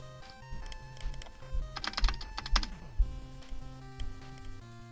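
Fingers tapping a computer keyboard during a game stream, irregular clicks with a brief fast burst in the middle and lighter scattered keystrokes around it, close and fairly quiet.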